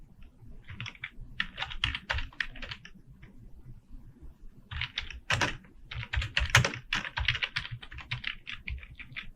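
Fast typing on a computer keyboard, close-up bursts of crisp key clicks with a pause in the middle and a few heavier thumps like the space or enter key, with no talk.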